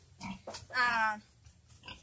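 A wild pig on a farm gives short grunts and one longer squealing oink in the middle, loud and close, separated by brief pauses.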